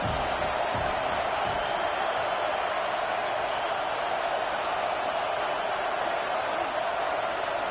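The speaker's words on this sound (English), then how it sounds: "3rd down, and the crowd really getting into it" A football stadium crowd roars steadily on a big third-down play, a dense, continuous wash of cheering that stays loud and even throughout, heard from within the stands.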